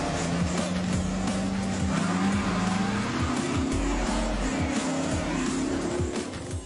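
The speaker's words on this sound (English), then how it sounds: "as these cars spin out of control" Hoon drivers spinning cars out on a road before a watching crowd, with continuous loud engine roar and screeching tyre squeal, plus rumbling thumps throughout, no talk.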